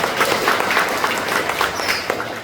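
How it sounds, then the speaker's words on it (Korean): Audience applause in a Cheongju city hall assembly room opening a local future-development policy forum, a steady, dense wash of clapping sustained throughout with no talk over it. "모두 다 같이 큰 박수로 시작하겠습니다."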